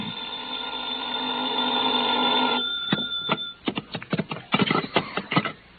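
Old-fashioned telephone bell ringing in a vintage radio drama, a steady ring for a few seconds followed by a rapid burst of sharp, close rings.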